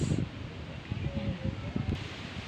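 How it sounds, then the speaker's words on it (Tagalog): Strong wind blows through a corn field outdoors, a steady rustling gust close to the microphone with faint voices underneath. "Ang lakas ng hangin."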